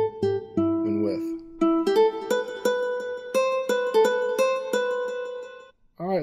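Electric guitar running through a chain of free plugin effects plays a flowing run of picked notes, close and sustained, notes blending into a shimmering wash before cutting off at the end.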